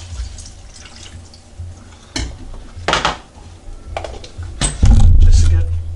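A film developing bottle being rinsed with water at home, with splashing bursts, drips and clinks of the plastic bottle against a sink, uneven and close, with a voice talking at times.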